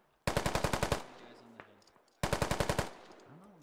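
Two close, loud bursts of rapid automatic gunfire from a military video game, each about eight evenly spaced shots, separated by a quieter gap with faint distant effects.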